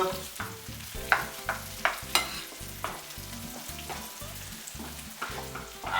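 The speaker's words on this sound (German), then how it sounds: "Ich rühre in der Zeit noch ein bisschen den Speck um mit den Zwiebeln." Bacon and onions frying in a pan are stirred with a steady sizzle, and rhythmic scraping strokes of the spoon are clearly heard close up. No speech.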